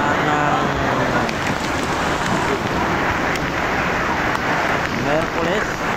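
Heavy morning rain pours steadily in Baseco during flooding, a dense, loud, unbroken hiss filling the whole stretch, with someone speaking faintly under it.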